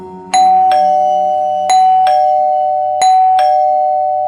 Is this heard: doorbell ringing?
yes